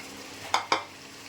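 Spice paste being fried with onion and garlic in a pan, with a low sizzle and two quick close scraping strokes of a spoon in succession.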